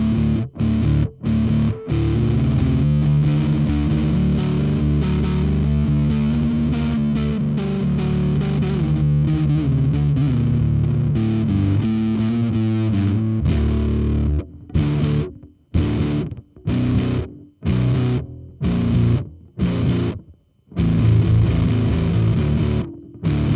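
A bass guitar plays through a Russian-style muff fuzz pedal, a thick, heavily distorted line that runs continuously at first, then breaks into choppy notes separated by short silences.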